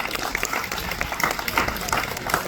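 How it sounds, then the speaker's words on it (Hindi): An audience claps for a children's dance performance at an Independence Day community show in a residential complex, giving a dense, continuous patter of many hands at steady loudness. "बच्चों के लिए तालियां"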